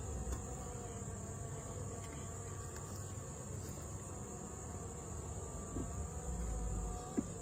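Honeybees humming steadily around an open hive during an inspection of the top brood box, a low continuous buzz with insect drone that stays close and even, with no talking.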